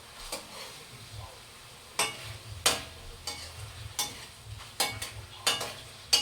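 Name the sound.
chicken adobo frying and being stirred in a pan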